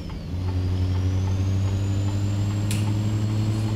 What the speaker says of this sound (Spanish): Jala durísimo este motor, ¿eh?